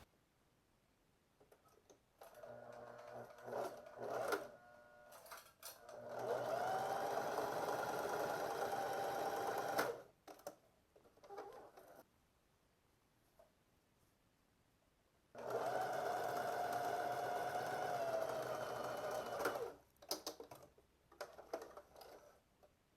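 A sewing machine runs in two long, steady bursts with short start-stop stitching before and after, sewing the side seams of pleated shorts, with quiet gaps between runs.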